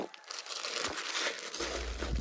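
Plastic bags rustle and crinkle continuously as someone rummages through them at a Goodwill thrift store, a steady close crackling lasting the whole stretch.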